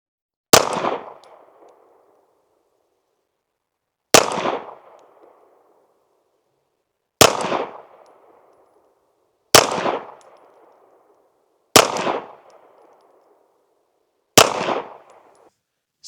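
Six single shots from an Archon Type B pistol firing CCI Blazer 124 grain ammunition at an outdoor range, each a sharp loud crack with a short decaying tail, spaced a few seconds apart, with no talking.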